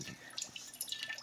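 A cat water fountain trickles and drips steadily at close range, a soft continuous splashing with small bright droplet sounds, no voices over it.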